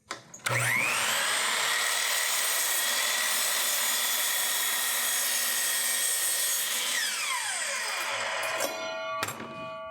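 A newly adjusted miter saw spins up and cuts through a piece of wood, a loud steady whine with a sharp onset, fading briefly near the end before a final clunk.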